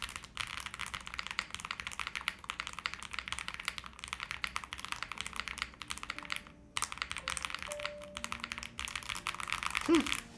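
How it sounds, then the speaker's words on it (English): Fingers type steadily on a Mammoth75 mechanical keyboard fitted with soft Wuque switches, giving a dense stream of close, muted clacks with brief pauses and a slightly louder flurry near the end. "This is a very soft keyboard too."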